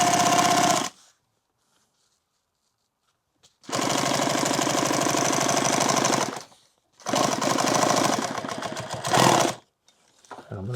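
A sewing machine runs in three loud, steady bursts of rapid stitching while sewing a bandolier, separated by silent pauses.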